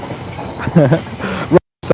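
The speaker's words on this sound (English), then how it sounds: "don't worry, this train will be gone in a minute. It's really, really loud." A loud train passes close by near woods, with squealing, rumbling wheels and metallic screeches. The clip cuts out briefly near the end.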